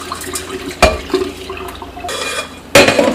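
Sushi rice being rinsed by hand in a bowl of water, with close sloshing and swishing, soft clinks against the bowl, and two louder splashing bursts as the grains are stirred and the water is poured.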